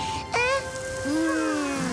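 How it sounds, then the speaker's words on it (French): Steady rain hiss in an animated cartoon fills the background while wavering whistle-like tones rise and fall over it. "La pluie, ouais!"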